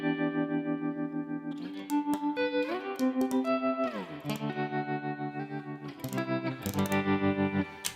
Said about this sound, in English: So just know that blue on the rig 3 is a nice clean with reverb. Then you can kick in a tremolo.